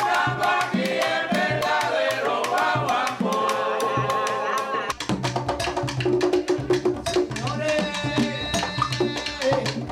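Afro-Cuban rumba music plays loudly and continuously, with dense percussion and melodic instruments, shifting at the midpoint into sharper, choppier drum hits and sustained tones.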